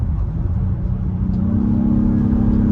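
A 2022 Acura MDX Type-S pulls hard under boost, its steady mid-pitched engine drone climbing into a rising whine as the car gathers speed, loud and continuous with no talk over it.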